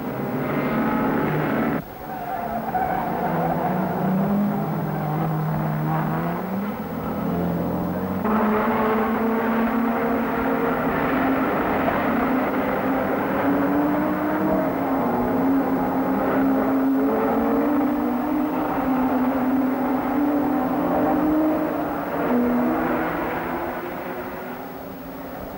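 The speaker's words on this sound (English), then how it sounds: "Frank Mattich makes a good start and leads Graham Hill and Jim Clark off the line" 1960s racing cars getting away at the start of a race, engines droning and rising in pitch as the field pulls off the line, steady and fairly loud without any speech.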